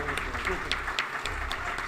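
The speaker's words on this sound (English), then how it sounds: "a round of applause, please" A live convention crowd applauds a contestant at a game-show-style stage event, with a brisk, continuous patter of clapping heard under a host's amplified voice.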